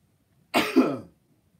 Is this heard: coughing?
yes